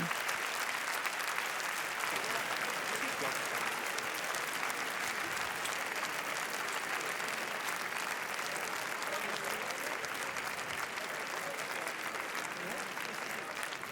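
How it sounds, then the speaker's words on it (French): Sustained applause from the crowd on the Cannes red carpet greets the film team of At War before its screening, a dense, steady clapping that fills the whole stretch at even loudness. "applause before the screening of At War, directed by Stéphane Brizé"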